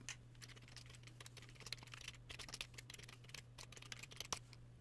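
Typing a command on a computer keyboard for a Raspberry Pi 4, a quick run of soft clicking keystrokes under a low steady hum, quiet and close.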